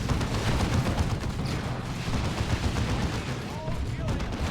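Dense, continuous gunfire and blasts from a 3v3 Warhammer 40,000: Dawn of War 2 battle involving plasma cannons, a Land Raider and Tyranid Warrior Broods. The barrage rattles on steadily and loudly throughout with no pause.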